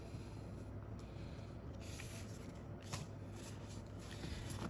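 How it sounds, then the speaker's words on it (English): An oracle card deck is shuffled in close, quiet rustling and riffling, with soft papery flicks repeating over a low steady room hum and no talking. "let's shuffle and try this beautiful oracle deck"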